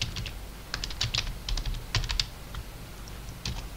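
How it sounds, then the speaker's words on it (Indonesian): Keys clatter in quick, uneven bursts on a computer keyboard as a command is typed into an Ubuntu terminal, close and fairly crisp over a quiet room background, with no voices. "cukup ketik OBS"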